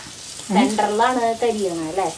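Maida-coated fish frying on a dosa stone, a steady close sizzle running under a voice that talks through most of the moment.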